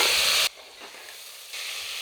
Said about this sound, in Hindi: अब हम ऊपर से कुकर का ढक्कन इस तरीके से ढकते हुए 1 मिनट तक सब्जी को भून लेते हैं